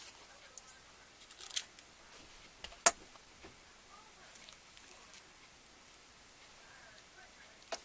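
Scissors snip through spring wreath materials in a few quiet, scattered cuts, with one sharp louder snip standing out amid faint rustling.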